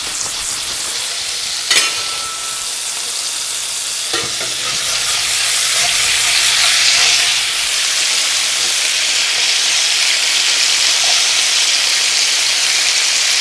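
Scallops searing in a greasy cast iron pan, a loud steady sizzle and hiss that swells midway, with a couple of sharp clinks from a utensil early on, no talking.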